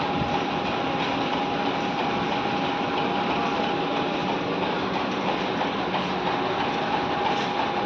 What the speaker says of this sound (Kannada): ಆ್ಯಕ್ಚುಲಿ ಅದು ಚೆನ್ನೈ ರೈಲ್ ಆಗಿರಬೇಕು